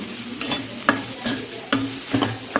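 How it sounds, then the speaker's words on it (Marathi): Grated coconut stirred and fried in ghee over a medium flame for coconut burfi: a soft, steady sizzle broken by several scraping strokes of the spoon against the pan, close and alone with no voices. "कंटिन्यू हलवत राहायचं नारळ फ्राय करून घेताना"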